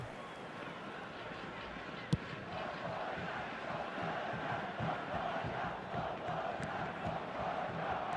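A stadium crowd in the football video game eFootball Mobile keeps up a steady, distant roar, with one sharp click partway through and a slight swell near the end.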